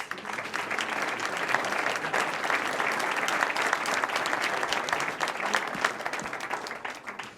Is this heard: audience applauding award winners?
yes